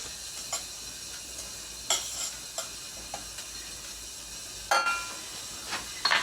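A tablespoon of butter melts in a hot pan with a steady soft sizzle and hiss, broken by a few sharp clicks and taps, with no talking.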